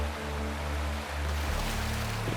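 Steady rushing water from a waterfall in the video game Wuthering Waves, set among stone ruins on a mountain, with a constant broadband roar and low tonal game music humming underneath.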